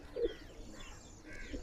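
Domestic pigeons kept for sale, an old-generation local cock among them, give a soft low coo near the start, then faint murmuring coos through quiet background noise.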